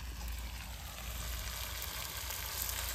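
Meat sizzles and fries loudly in a pan as potatoes are added, a steady dense crackle with no talking.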